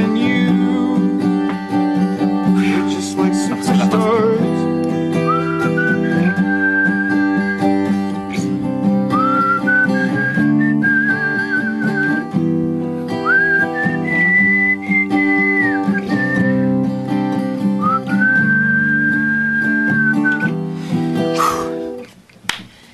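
A person whistles a bright melody from a charity song project, clear and close, with phrase after phrase over steady backing music for about twenty seconds before the tune stops abruptly.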